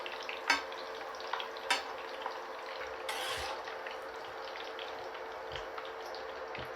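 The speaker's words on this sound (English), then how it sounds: "I'm only frying 12 kebabs today." Chapli kebabs fry quietly in oil, a soft steady sizzle with a few sharp pops and crackles, fairly faint and close.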